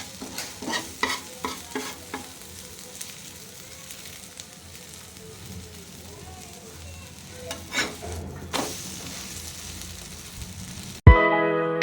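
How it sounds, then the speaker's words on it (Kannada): Single bread slices toasting in a home kitchen pan give a soft sizzle under scraping and tapping from turning and pressing them, then a sharp clatter at the end; no one speaks. "ಫೈನಲಾಗಿ ಬ್ರೆಡ್ ಟೋಸ್ಟ್ ಮಾಡಿದ್ದೀನಿ"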